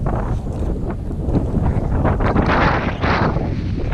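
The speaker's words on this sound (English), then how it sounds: "that wind is pretty bad right now" Steady wind blasting across open water and a kayak, a loud, continuous roar with rumbling microphone buffeting from start to finish and no talk.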